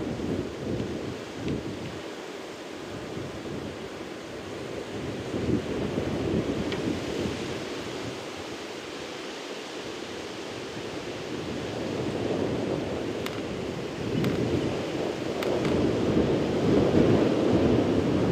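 Wind blows across an open savanna, roaring steadily and buffeting the microphone with loud low rumbling gusts that swell and ease throughout, with no talking.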